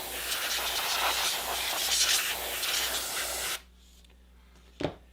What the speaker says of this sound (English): using an air chuck or an old airbrush like this one, blow off dust and light debris